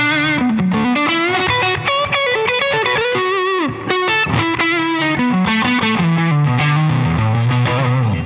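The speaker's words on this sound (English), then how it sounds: "Since it's sort of a fuzzy drive, I like a little bit more gain than just a standard low gain overdrive amount" An electric guitar played through a Walrus Audio Melee pedal set to a fuzzy overdrive with some reverb gives a gritty, saturated tone as chords and single notes ring out loud and continuous without speech.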